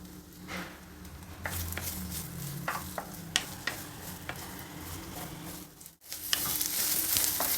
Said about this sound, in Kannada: ಈರುಳ್ಳಿ ಬೆಳ್ಳುಳ್ಳಿ ಸ್ವಲ್ಪ ಫ್ರೈ ಆಗಿದೆ